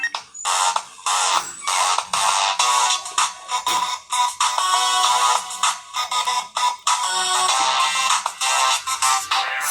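A ringtone on a Samsung Galaxy S phone, a dense, busy electronic melody with choppy, pulsing bursts of bright tones, played loud and close for about ten seconds with no talking.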